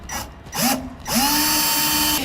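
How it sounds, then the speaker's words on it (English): A power drill drilling a pilot hole for a 2005 gooseneck hitch installation whirs up twice: a short burst, a brief pause, then a longer sustained spin, loud and close. "Now we'll drill a pilot hole"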